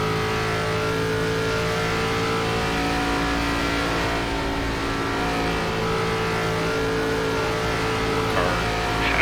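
ARCA stock car engine in iRacing at Texas Motor Speedway, running loud and steady throughout with a sustained droning roar that builds slightly as the throttle goes on, no talk over it.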